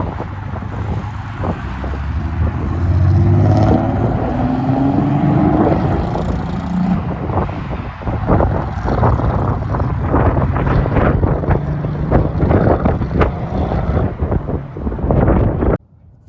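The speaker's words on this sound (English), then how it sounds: "I almost never get to see my car drive." A lowered BMW E30 drives by, its engine rumble rising and sweeping past near the microphone amid heavy wind buffeting, then fading before an abrupt cutoff.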